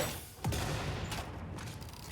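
Explosions in the factory-building game Satisfactory: a dense rumbling roar of blasts with a sharp burst near the start and further crackling bursts, loud and continuous over a noisy background.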